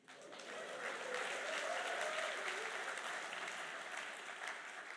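Audience at a literature festival inauguration applauds and cheers for Anil Dharker, a dense burst of clapping that swells after a quick start and holds steady, heard from within a hall.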